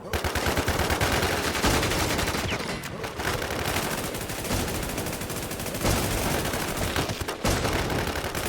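Rapid gunfire fills an ATLAS online battle, with dense overlapping bursts and volleys running almost continuously at steady high loudness across the whole stretch.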